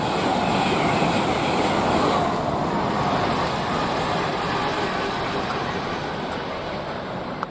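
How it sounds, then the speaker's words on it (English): An IET train races through Didcot Parkway on the Great Western Main Line, a loud, sustained rushing roar of wheels and rail with a high squeal along the top, fading slightly toward the end. "And we have an IET whacking through at pace."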